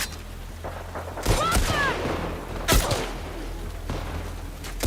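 Enemy gunfire in The Last of Us Part 2, a few sharp bursts of shots around the middle with one louder crack later, over a steady low game hum and some faint background sound.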